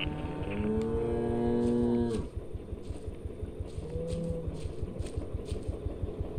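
Cattle moo in the video game Greyhill Incident, one long loud low moo followed by a shorter fainter one, over a rhythmic mechanical thrum and faint ambient game noise.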